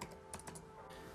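A computer keyboard types an expression in Houdini fluid-simulation software: a few quick, faint, close keystroke clicks in a short burst over a soft background.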